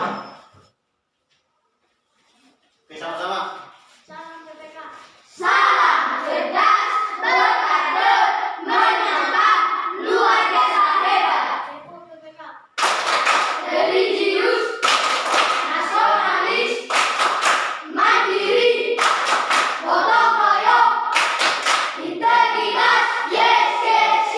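Classroom students perform the rhythmic 'tepuk PPK' clapping routine, with loud unison claps and patterned beats in bursts after a short silence, mixed with chanting voices.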